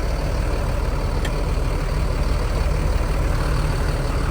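Mercedes-Benz rear-mounted engine of a large Euro 4 bus idling, a steady low rumble with constant hum heard close by, no talk.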